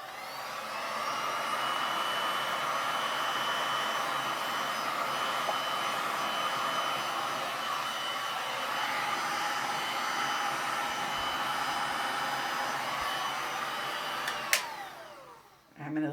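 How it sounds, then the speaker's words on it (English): A steady, loud rush of blown air plays over a resin pour on a galvanized metal sign, holding constant for about fifteen seconds before cutting off with a brief click near the end. "And then I'm just going to blow it around a little tiny bit."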